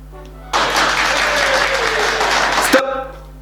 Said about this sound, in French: Pouvons-nous mettre des applaudissements désormais?